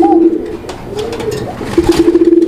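A Bashiraj pigeon coos nearby in loud, repeated rolling calls, with short breaks between phrases.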